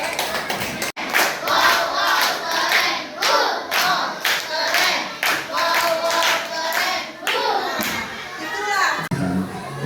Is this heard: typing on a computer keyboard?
no